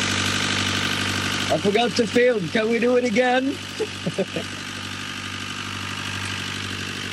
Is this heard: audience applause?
no